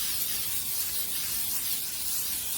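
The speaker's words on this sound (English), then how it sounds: "I'm just gonna spray my pan with some Pam" A steady aerosol hiss of Pam cooking spray onto a pan, close and continuous for a couple of seconds, with no voices.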